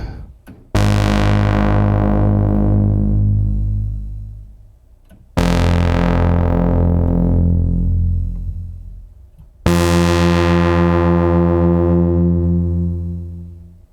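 Three long sustained notes from an Oberheim OB-1 synthesizer, each struck and left to ring out and decay slowly before the next begins, with rich harmonic overtones and no talking.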